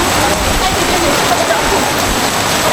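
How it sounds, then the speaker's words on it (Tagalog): Heavy rain from Typhoon Carina pours down in a dense, steady roar like a waterfall, loud and unbroken throughout, with no clear voices above it. "Ayaw pa rin tumigil ang ulan."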